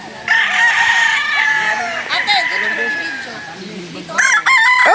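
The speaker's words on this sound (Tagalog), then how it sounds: "daming manok dito" Roosters crow loudly and up close among clucking chickens at a Philippine gamecock yard, with several long crows in sequence and another burst near the end.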